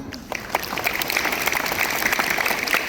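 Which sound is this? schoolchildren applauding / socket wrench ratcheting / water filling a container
schoolchildren applauding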